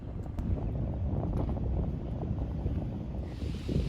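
Wind on an outdoor golf course buffets the microphone in a steady low rumble throughout, with no voices.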